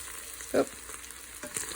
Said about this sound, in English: go ahead and scrape up all those yums on the bottom of the pan